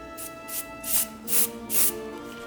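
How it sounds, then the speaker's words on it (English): Five short hissing bursts from an aerosol can sprayed onto a fondant cake at an even rhythm, each a soft sharp spray over a quiet background hum. "it was actually me that was spraying too far away from the cake"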